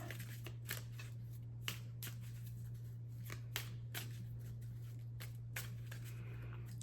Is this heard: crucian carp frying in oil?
no